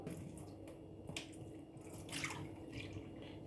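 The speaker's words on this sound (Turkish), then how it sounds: "Şimdi suyu döküyorum." Water tipped out of a glass during a simple adhesion experiment, landing in a few scattered drips and soft trickling splashes, fairly quiet over low background hum.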